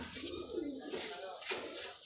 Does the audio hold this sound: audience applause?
no